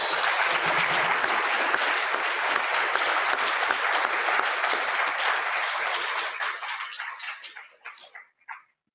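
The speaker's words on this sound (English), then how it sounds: "actually give them a round of applause" A large conference audience at a plenary closeout session applauds the admin and IT team with sustained, dense clapping that holds steady, then thins out and fades to a few scattered claps at the end.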